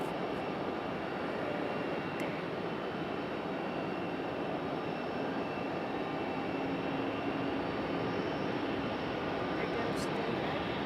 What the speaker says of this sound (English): I hear an A220. Or Delta A220.